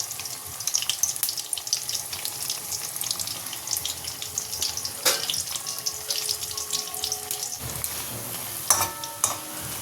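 Onion fritters (piyaji) fry in a home kitchen with a faint, steady crackling sizzle and scattered sharp ticks and utensil clinks. The sound stays fairly quiet throughout and there is no talk.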